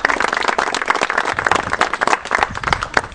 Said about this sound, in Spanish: también el aplauso fuerte para él